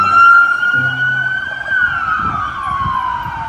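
A toy police car's electronic siren wails in a steady, sweeping tone close to the listener, loud and continuous, with a faint low rumble beneath it and no talking.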